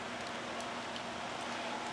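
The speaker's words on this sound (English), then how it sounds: "Sorry if you guys can hear the rain in the background" Rain falls steadily outside, a constant soft hiss of drops filling the background at an even, moderate level with no talking.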